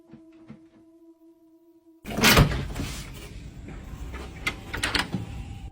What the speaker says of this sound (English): As she opens the door and looks outside